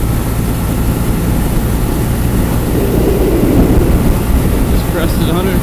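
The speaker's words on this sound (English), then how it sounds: "Crested 150 miles on our motorcycle here." A Triumph T-100 motorcycle with sidecar rolls downhill on a mountain road, giving a steady, loud engine drone heavily mixed with rushing wind noise.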